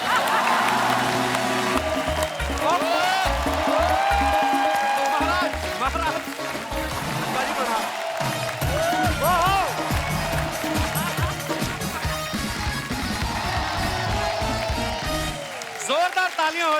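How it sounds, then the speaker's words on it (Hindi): Studio audience clapping loudly and steadily throughout at a comedy show taping, a dense sustained applause with cheering mixed in and a host talking over it. "जोरदार तालियां हो जाए अनुपम सर के लिए"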